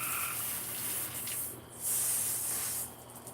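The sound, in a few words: running water washing a cutting board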